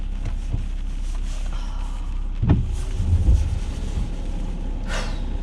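Car engine idling to warm up during a trip in Normandy, heard as a steady low rumble throughout with a few small knocks and clunks, no talk.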